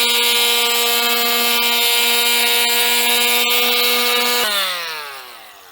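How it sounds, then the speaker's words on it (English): A small oscillating multi-tool fitted with 60-grit sandpaper rounds over the edges of a dog-damaged door, giving a steady loud harmonic whine that drops in pitch and trails off as the tool spins down near the end. "we're going to use our little multi-tool here with a 60 grit on it to round these edges off just a little bit"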